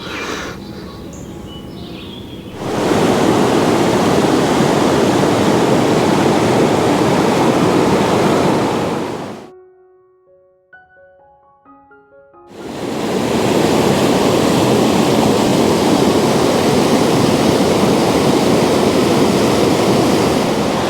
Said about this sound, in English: the water's running quite swift today